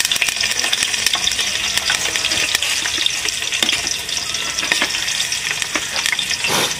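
Green chillies frying in hot oil, a loud, dense, continuous crackle and sputter close up, with occasional clinks and scrapes of a utensil and no talking.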